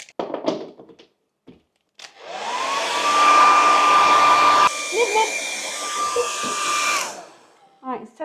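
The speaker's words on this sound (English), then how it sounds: "Let's test the hairdryer, which Hans does not like, dear." A hair dryer whirs steadily for about five seconds with a high whine, preceded and followed by clicks and handling thumps.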